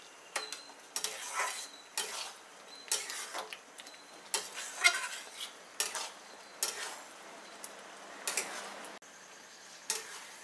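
A spoon stirs thick tomato pickle (achar) cooking down in a pan, with repeated scraping strokes and light metallic taps at an irregular pace, quiet and close, with faint sizzling between strokes.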